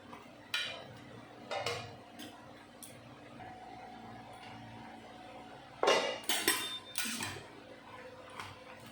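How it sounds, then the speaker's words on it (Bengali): A pot lid lifted off and taro leaves stirred in a pot, with scattered light metallic clinks and a cluster of louder scraping clatters toward the end over quiet background. "ঢাকনাটা তুলে নিলাম, তারপরে ভালো করে নাড়িয়ে চাড়িয়ে দিয়ে দেব আবারও ঢাকা"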